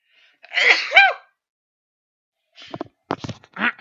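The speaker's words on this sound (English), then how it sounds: "Pardon me, I'm going to sneeze." A single sharp sneeze bursts out, followed by a short pause and then a couple of quick sniffs or throat noises.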